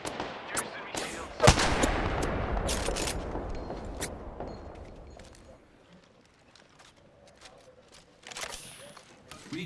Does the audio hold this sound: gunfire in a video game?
yes